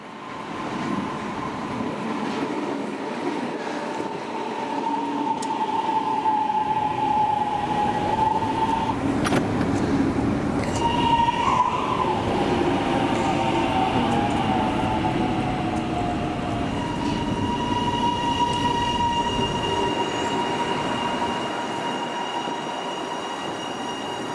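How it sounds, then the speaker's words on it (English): An HCMT suburban electric train from Pakenham runs along the line, a loud sustained rumble with wheel squeal, shifting motor whine and faint rail clatter, heard from inside the carriage. "This is the train from Pakenham."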